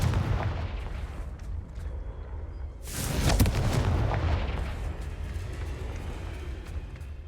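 A Confringo fire spell from Hogwarts Legacy bursts into a loud, booming blast with a crackling roar that swells, then lingers as a dense rumble over a steady low background of game noise.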